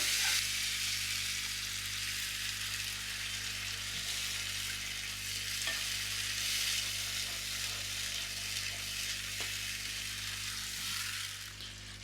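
Fried masala for Bengali prawn and pointed gourd dolma hisses steadily in a pan after a cup of water goes in, a continuous close sizzle that holds nearly level throughout before easing slightly at the end.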